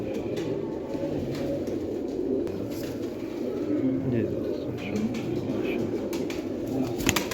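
Teddy pigeons, Salara teddy birds, coo in a loft, a continuous throaty murmur close by, with someone talking over the birds throughout.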